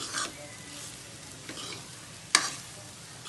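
Food fries in hot ghee in a pan, a soft, steady sizzle with a few brief sharper crackles and stirring sounds.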